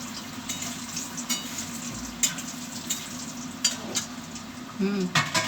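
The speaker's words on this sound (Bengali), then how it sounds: "এই দেখো এখানে কড়াতে পটল ভাজতে দিয়েছি" Pointed gourd (potol) frying in a wok gives a steady, moderate sizzle broken by scattered clicks and scrapes of stirring, with a few louder knocks near the end.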